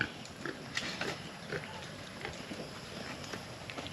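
Free-range piglets leaving after a meal grunt and shuffle nearby, with soft scattered footfalls and faint snorts over a low farmyard background.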